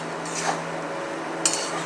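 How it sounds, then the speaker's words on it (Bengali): A metal spoon stirs mushroom guguli curry in a pan after vegetable stock from boiled carrot and beetroot is added, giving faint scrapes with two brief clinks against the pan over a steady low hiss. "ভালোভাবে এটা নাড়াচাড়া করতে হবে"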